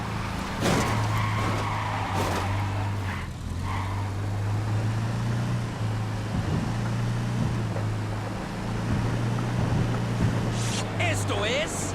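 A car driven hard in Ghost Recon Wildlands, a steady engine drone with repeated tire squeals and skids, joined by wind and scattered game noises, with voices faintly present.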